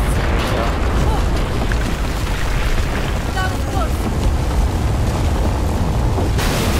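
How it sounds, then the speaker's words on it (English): Explosions in the Battlefield 4 video game, a dense, loud, continuous rumbling roar that fills the whole stretch, with a sharp change near the end. "I only counted two explosions."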